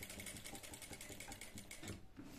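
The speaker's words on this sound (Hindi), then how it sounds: "वहाँ से सिलाई डालना स्टार्ट करेंगे, एकदम किनारे किनारे सिलाई डालनी है फ्रेंड्स।" A sewing machine runs fast, stitching close along the edge of a V-neck collar. Its quiet, even chatter of needle strokes continues steadily and then tapers off.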